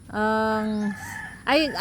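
A chicken gives a long, steady, tonal call, followed by a short pair of rising-falling squawks, fairly close and loud.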